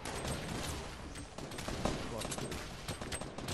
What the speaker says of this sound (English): He's throwing fucking grenades. Grenade launcher.